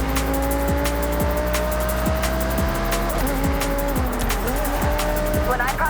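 An Audi R8 V10 supercar races in Forza Horizon 6, engine whining through rising gears with repeated sharp shift drops and tire squeals, loud and close, under a steady roar.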